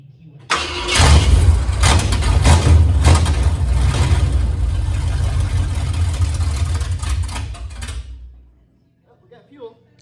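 A large 1976 Ford Highboy truck engine with headers cranks and fires up, then roars loudly and steadily for several seconds before shutting off abruptly, leaving near silence.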